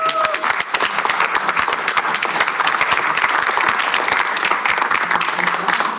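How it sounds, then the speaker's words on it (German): Audience applause at a German public astronomy event marking the Gaia DR3 catalogue release: dense, steady clapping from a crowd, loud and sustained for the full stretch with no voices over it. "das ist ein Applaus wert"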